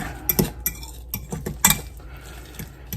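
Rye bread chaffle batter being mixed in a bowl, with close, irregular clinks and scrapes of a utensil against the bowl and no speech.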